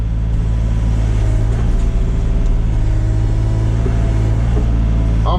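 A SANY SY35U mini excavator's diesel engine spooling back up, a loud close steady drone and low rumble holding throughout with no talk.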